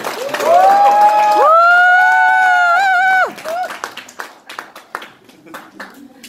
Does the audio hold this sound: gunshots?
no